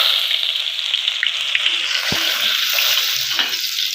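Chopped onions hit two spoonfuls of hot oil in a pan and fry with a bright, steady hiss, a single sharp clack of a utensil midway and a few soft crackles, close by with no talking.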